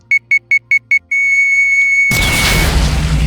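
A rocket from a Minecraft mod: a run of six short, shrill electronic beeps turns into one sustained tone, then a loud, broad noisy blast cuts in and rolls on to the end, with no talking.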